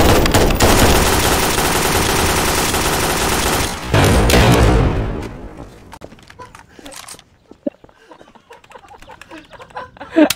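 In Garry's Mod, a dense, loud barrage of game gunfire, including shotgun blasts, roars for about five seconds. It then drops to scattered, quieter clicks and pops.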